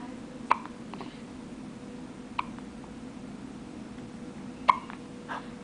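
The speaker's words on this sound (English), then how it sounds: "So we got the hiccups." A newborn baby hiccuping on the day of birth, with three sharp, isolated hiccups spaced a couple of seconds apart over a quiet room background.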